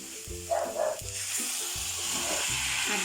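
Pork dropped into a hot pan with sautéed garlic and onion, sizzling and hissing steadily with a few knocks of a utensil stirring, close by and without speech.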